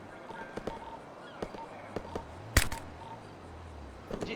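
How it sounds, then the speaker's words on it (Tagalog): A grenade blast in an online civil war roleplay shooter game comes through as one loud sharp burst, with several smaller pops and clicks scattered before and after it. "Granadahin niyo to"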